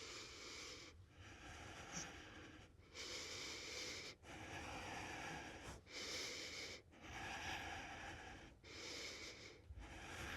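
Heavy, rhythmic breathing during a trauma release exercise: loud, close inhales and exhales repeat in about six long cycles, each separated by a short pause.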